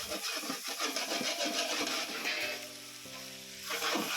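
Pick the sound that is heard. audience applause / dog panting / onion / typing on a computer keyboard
onion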